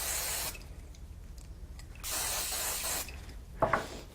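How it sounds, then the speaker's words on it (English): Spray glue is applied to the back of a decorative card piece in three short, hissing bursts separated by pauses, fairly quiet and close, with a small clatter at the end. "I'll use a bit of spray glue on the back since it's more detailed."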